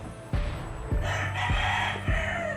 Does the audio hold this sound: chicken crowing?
yes